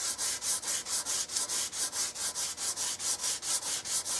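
A wooden rifle stock is hand-sanded with 180 grit Freud sandpaper, giving about seventeen even, rhythmic back-and-forth rasping strokes that are close and steady, with no talk.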